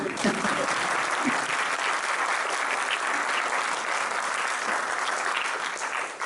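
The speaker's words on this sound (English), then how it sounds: "Round of applause for the youth, maybe?" An audience at a Guru Poornima gathering in Auckland applauds the youth, a dense, even wash of many hands clapping that holds steady for several seconds before easing slightly at the end.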